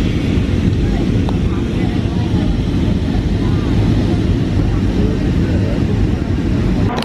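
Steady, loud broadband roar of a large passenger airplane's cabin in flight en route to North Carolina, a continuous low engine and airflow drone holding level throughout with no break.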